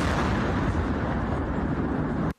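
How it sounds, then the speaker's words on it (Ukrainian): A massive, sustained explosion of a mined sluice gate being blown up roars at full loudness for over two seconds, deep rumbling and dense, then cuts off abruptly. "Потужний вибух шокував не лише окупантів"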